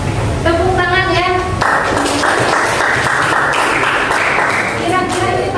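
An audience bursts into steady clapping for about three seconds between stretches of someone speaking, the applause dense and fairly close before the talk resumes.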